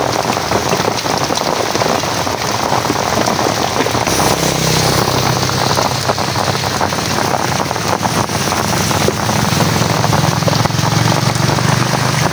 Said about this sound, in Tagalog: Medyo konti-konti na lang yung ulan.